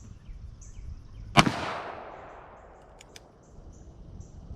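A single loud shot from a Ruger New Vaquero .45 Long Colt revolver fired at an outdoor target. A sharp crack is followed by a long fading echo, then a couple of faint clicks.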